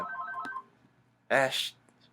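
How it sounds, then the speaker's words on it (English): A telephone going off indoors: a short run of electronic tones, a pause, then a louder burst, with a person talking nearby. "shut up, phone"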